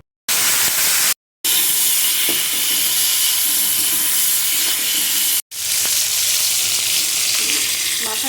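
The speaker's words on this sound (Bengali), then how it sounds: "তেল গরম করতে দিয়েছি এখানে ওই মাছগুলো ভেজে নেবো" Hilsa fish heads fry in hot oil with a loud, continuous hissing sizzle that stays steady throughout, broken only by a couple of brief cuts.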